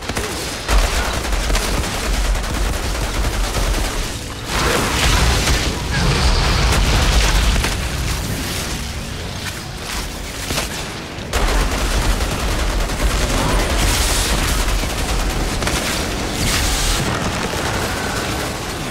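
Explosions and bursts of gunfire from the Outriders shooter game fill the whole stretch, loud and continuous with heavy booms, while a player talks over the action.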